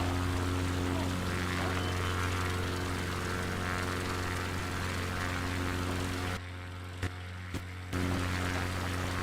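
A small propeller plane taking off from a rough strip in the Amazon roars steadily and loud, its engine drone nearly constant with a brief dropout near the end.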